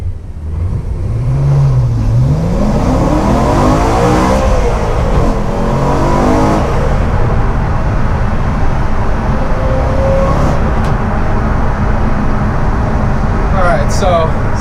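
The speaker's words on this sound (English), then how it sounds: "So I'm going to be launching the car here from 0." A gutted BMW E92 M3 track car launches from a standstill, its engine rising in pitch through steady revving under continuous loud road and cabin noise.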